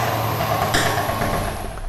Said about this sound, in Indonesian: ada suara exhaust burble-nya jadi seperti ini